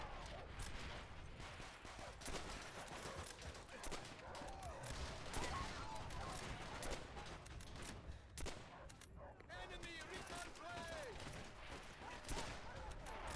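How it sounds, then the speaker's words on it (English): Rapid, dense gunfire from a Call of Duty: World at War match, crackling shots and bursts layered continuously at moderate loudness, with someone talking over the firing. "Hello, who's shooting me down there? I'm being shot."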